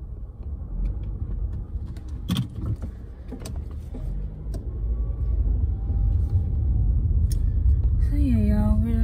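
Inside a moving car, a steady low road rumble and engine drone continue throughout, with brief clicks and a short rising electronic tone near the end.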